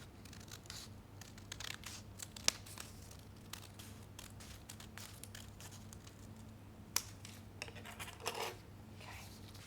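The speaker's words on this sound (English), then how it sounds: "And we'll cut this around and we'll see what happens." Scissors snipping through a folded paper square cut into a window shape, a quiet run of small crisp clicks and crinkles at close range, with a couple of sharper snips standing out.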